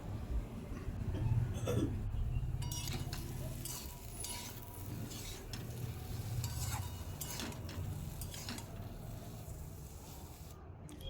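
Potatoes frying under a lid in a pan, seasoned with salt and turmeric, a low continuous sizzle broken by scraping stirs and clinks of a utensil against the pan, moderately quiet and close.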